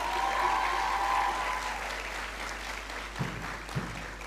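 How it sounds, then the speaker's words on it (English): Applause from an audience at a school valedictory service, a sustained wash of clapping that gradually thins out, with a couple of louder thumps near the end. "Please give everyone a round of applause."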